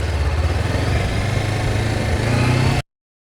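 A motorbike is ridden at full throttle on a foggy forest trip, its engine giving a loud, close, steady drone that holds strong before cutting off abruptly near the end.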